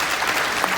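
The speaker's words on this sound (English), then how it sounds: "So I want to give a hand of applause to those 2 minutes." Short burst of audience applause at a corporate launch event, a dense wash of many hands clapping, loud and continuous for under a second.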